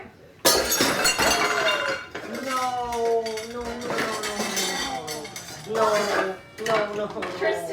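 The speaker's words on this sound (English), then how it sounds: "I broke Mom's bowl" A glass bowl breaks in a home kitchen near a dishwasher, with sharp crashes and clinks of shards and dishes rattling in close, loud bursts, while voices talk and cry out over the clatter.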